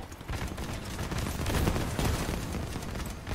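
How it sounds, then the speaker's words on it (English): Heavy gunfire and booming weapon blasts in a Crossout vehicle battle, including a cannon shot, form a dense, continuous roar of overlapping impacts with no clear pause, loud throughout. "I'm guessing that last cannon shot I just heard"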